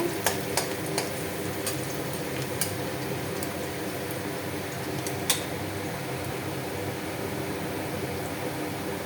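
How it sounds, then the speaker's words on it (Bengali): Onions frying in oil in a wok, a steady loud sizzle with sharp clicks of a utensil against the pan near the start, no voices. "তো কড়াইতে তেল দিয়ে দিয়েছি, তো এই পেঁয়াজগুলি দিয়ে দিলাম।"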